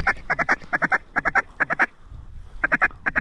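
Ducks quack loudly in quick bursts of three or four calls, with short pauses between groups, during a snowstorm duck hunt in Alberta.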